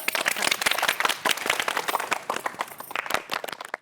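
A small group claps in quick, uneven bursts, a close and lively patter of individual hand claps lasting a few seconds without speech.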